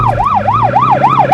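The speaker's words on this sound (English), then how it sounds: "the siren button" Wailing electronic siren of a 2011 Range Rover, loud and close, sweeping up and down in a steady repeating cycle over a low engine hum.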